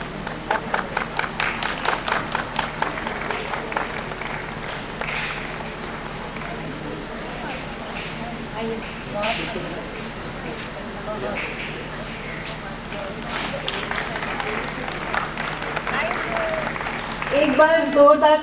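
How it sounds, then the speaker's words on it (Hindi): Audience applause for poets at a Basant Utsav poetry evening, with a few distinct rhythmic claps at first, then a long diffuse spell of clapping and murmuring that swells again near the end. "एक बार जोरदार तालियों से हम अपने कविगणों का अभिनंदन करते हैं"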